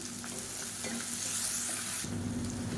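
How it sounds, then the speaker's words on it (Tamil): Onions with salt and garlic sautéing in a pan for a Tamil kulambu, a steady broadband sizzle with stirring scrapes throughout, close and moderately loud with a brief shift partway through, no talk. "இப்போ ஓரளவுக்கு வெங்காயம் எல்லாமே நல்லா வதங்கிருச்சு"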